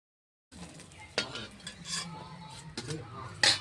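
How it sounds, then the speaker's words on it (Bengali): A utensil scrapes and clinks in a frying pan as fried eggplant is lifted out, with a few sharp metallic knocks over a faint background sizzle, close and fairly quiet after a brief silence. "ভাজা হয়ে গেছে, এখন আমি বেগুনটা তুলে নেব।"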